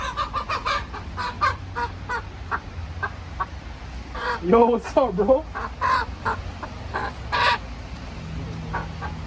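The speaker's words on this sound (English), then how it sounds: "I raise chickens in my backyard." Backyard chickens clucking and squawking in repeated short bursts, with a louder flurry of agitated calls midway, close by, while someone speaks briefly over them.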